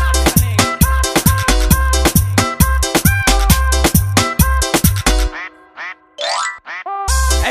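A duck quacks over and over in a quick, punchy rhythm set against a heavy beat, then gives a few sparser calls toward the end, loud and close.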